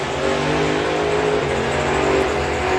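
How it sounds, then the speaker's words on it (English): A supercharged drag racing car roars at a drag strip, a loud continuous engine drone with a steady pitch that rises slightly as it approaches, filling the whole stretch without any speech. "Colin can hear the blown car coming."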